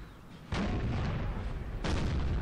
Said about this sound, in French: Pour l'instant, on est sur un duel d'artillerie.